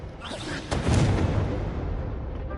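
Incendio fire spell cast in Hogwarts Legacy: a sudden whooshing burst that swells into a broad roaring rumble, then slowly fades.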